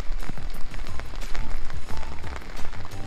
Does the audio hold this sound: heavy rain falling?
yes